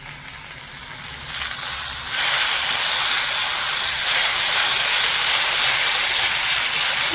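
Drumstick flowers steam in a covered pan, a loud continuous hiss that swells after a couple of seconds and then holds steady and close.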